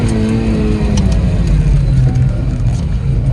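A rally car engine drones loud and close from inside the car, a sustained low rumble that rises slightly as it accelerates without pause.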